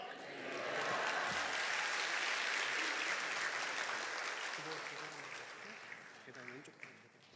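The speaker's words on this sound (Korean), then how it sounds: "할렐루야와 큰 박수로 우리 목사님 환영하겠습니다" A church congregation gives loud, sustained applause to welcome a pastor. The clapping swells, holds, then gradually thins, and scattered voices are heard near the end.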